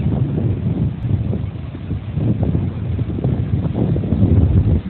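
Steady breeze gusting across the microphone at an ocean beach on a breezy day, a continuous loud rumbling whoosh that swells and dips without any talk.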